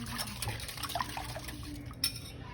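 Meatloaf glaze is poured over the mixture in a kitchen, a soft wet trickle with faint clinks of a dish and utensil, quiet and close, with one small sharper tap near the end.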